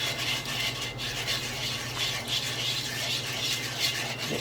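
A whisk beats batter until smooth, giving a steady, continuous scraping and rubbing that stays even and close for the whole stretch, with no talking over it.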